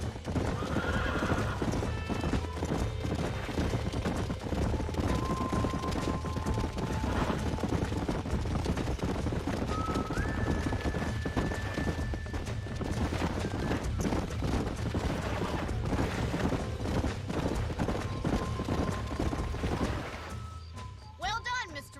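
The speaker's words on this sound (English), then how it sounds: "These are fine horses." Horses in the Red Dead Redemption video game: rapid clip-clop hoofbeats run steadily throughout, with a few whinnies and neighs above the hooves, beneath a loud, dense game soundscape and faint background voices.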